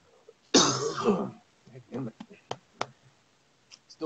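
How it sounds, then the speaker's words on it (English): A single harsh cough bursts out near the microphone, followed by throat clearing, a few scattered clicks and faint murmuring afterward. "Still fighting the cough"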